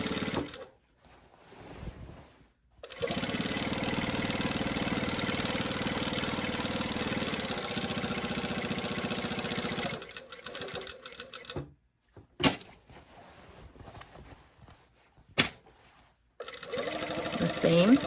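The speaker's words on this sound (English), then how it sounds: "We're going to sew all the way across the top of the collar." A sewing machine stitches across the top of a garment collar in several bursts of fast, even clatter, broken by pauses with a few sharp clicks and brief handling noises.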